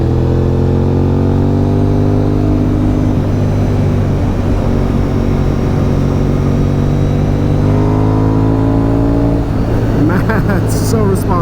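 A Honda sport motorcycle engine pulls hard while riding, loud and close, with a droning exhaust note whose pitch sweeps upward as it accelerates, and steady wind rush throughout.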